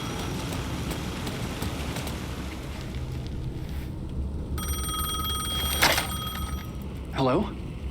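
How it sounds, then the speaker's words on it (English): A telephone rings with bright, steady bell tones in Alan Wake 2, starting partway through over a dark, rumbling ambience, then stopping as a brief voice sounds near the end. "The phone was ringing again."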